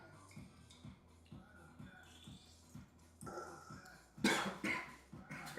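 Someone coughs hard after choking on a drink of water. A rhythm of low thumps runs under it first, then a burst of loud, harsh coughs comes up close.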